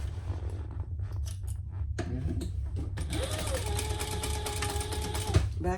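A voice talks at first, then a sewing machine starts and stitches steadily across the seam allowance of a garment pattern, humming close and continuous until it stops with a click near the end.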